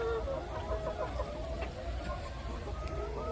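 Hens clucking and murmuring close by in a winter chicken coop, a steady busy chatter with occasional sharper calls over a low rumbling background.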